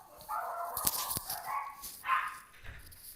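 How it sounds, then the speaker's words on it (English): A dog barks a few times in the background, short sharp yips spread across a few seconds at moderate distance. "My dog's barking."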